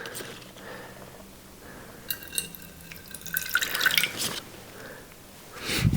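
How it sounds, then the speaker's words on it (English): Water is poured and drips out of an Alocasia 'Frydek' pot filled with leca clay balls, giving soft trickles and splashes that build to a louder splatter near the end. "So I'm gonna pour a little bit out of here."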